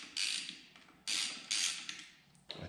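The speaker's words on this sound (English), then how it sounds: "Okay, so I have a T30 Torx. Just loosen these up here." A T30 Torx driver loosens bracket screws on the handlebar of a BMW R1200GS motorcycle, giving three or four close, creaking ratchet turns with short pauses between them.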